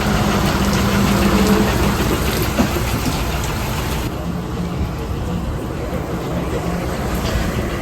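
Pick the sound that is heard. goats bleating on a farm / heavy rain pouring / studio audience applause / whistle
heavy rain pouring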